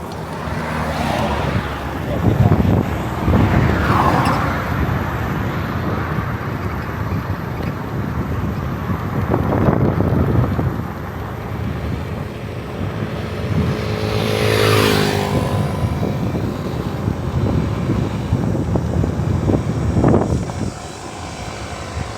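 Riding a Honda Click EV electric scooter outdoors, with steady rushing wind buffeting the microphone and the hum of passing traffic, swelling and easing over the ride.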